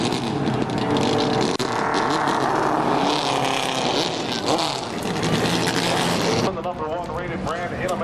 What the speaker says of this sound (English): now pulling up to on the track for their feature event tonight, the NASCAR Weekly Racing Series Late Models